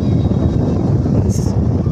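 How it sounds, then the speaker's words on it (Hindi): Strong evening wind roars outdoors near a home and temple, a loud, constant low buffeting rush against the microphone with no pauses. "हवा चल रही है बहुत जोर की"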